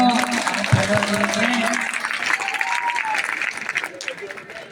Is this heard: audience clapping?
yes